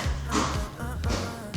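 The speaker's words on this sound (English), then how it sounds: "That's my cat in her litter box," Scratching and digging in cat litter, a few bursts of gritty scraping and soft thumps close by, with no voices.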